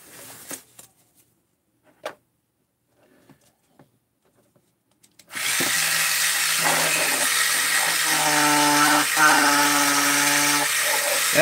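A power tool grinds at a workbench while a base is being finished. A few faint knocks come first, then a loud continuous whine starts abruptly and runs steadily to the end.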